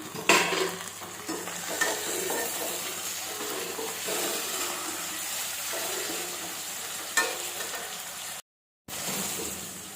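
Tomato and green chilies stir-frying in a pan while preparing a Tamil eggplant and black-eyed pea curry, a steady sizzle with scraping and clinking utensil stirs throughout, briefly cut to silence near the end.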